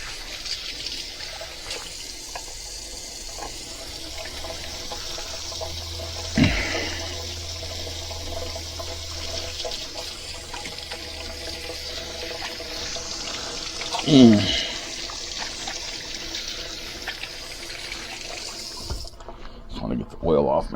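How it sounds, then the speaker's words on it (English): Running sink tap water streams steadily while olive oil is washed off hands, with a soft trickle and splashing throughout, a couple of louder splashes and brief speech in the room. "wash my hands. At least get the olive oil off for the time being."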